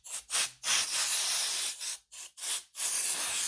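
Canned air duster sprays into a computer keyboard in a series of sharp, loud hissing bursts separated by brief pauses, close up with no talking.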